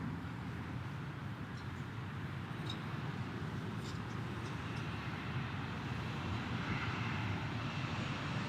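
Southwest Airlines airliner at Dallas Love Field, its engine roar a steady, moderately distant broadband rumble lasting throughout, with no talk.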